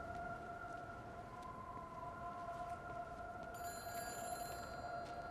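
A telephone rings in the video game Everybody's Gone to the Rapture, a steady electronic tone held over a low ambient hum, with a brighter ringing layer joining partway through.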